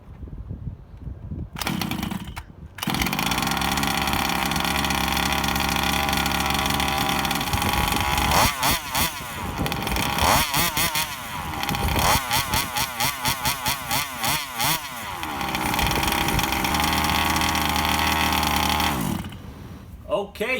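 Small two-stroke gas engine of a Rovan 1/5 scale RC Baja buggy runs steadily after starting outdoors, a loud continuous buzzing drone with throttle blips and dips mid-way, near the microphone, with talking heard partly over it.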